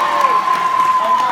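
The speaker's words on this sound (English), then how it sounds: "Applause for that." A live comedy-show audience claps and cheers together in a loud, dense burst, with some shouting voices mixed into the applause.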